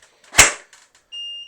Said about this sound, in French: ça fait vraiment clac quand il n'y a plus le canon.